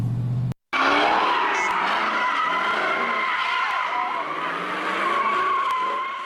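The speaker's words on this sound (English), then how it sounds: "You can see those skid marks there from all the burnouts and donuts that were taking place here." Car tires skid and squeal loudly during burnouts and donuts at a large street takeover in a neighborhood, one sustained wavering screech that follows a brief cut and fills the rest of the span.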